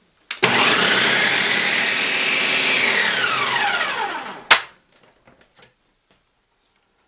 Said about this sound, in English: and turn the blender on